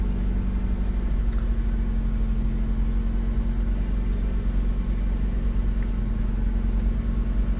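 A car's engine idling and revving high while parked, heard as a steady loud low rumble with a constant hum, close and continuous without talk.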